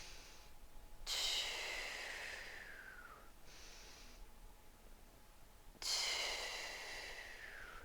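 Two slow, deep breaths during a yoga stretch in an athletic recovery mobility session, each a close, audible inhale followed by a longer, fading exhale, alone without talk.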